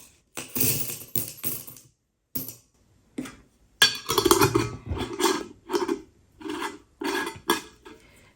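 Metallic clinks and scraping rattles come in short repeated bursts with quiet gaps, like loose coins being shuffled and handled up close.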